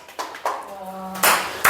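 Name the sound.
clapping applause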